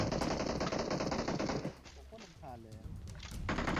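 Rapid gunfire from the video game PUBG Mobile rattles loudly in bursts, dropping away midway before firing picks up again, with a voice talking over part of it.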